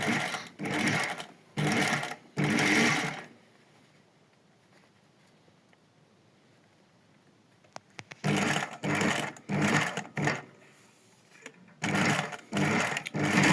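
Domestic sewing machine running a straight stitch on fabric near a loop, stitching in several short rapid-chatter bursts separated by pauses, with a long quiet gap in the middle; close and fairly loud, with no talk.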